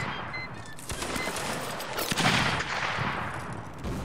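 Musket volley fire in Mount & Blade: Napoleonic Wars, a dense crackle of many shots overlapping across a battlefield, with a louder burst near the middle and continuous distant gunfire throughout.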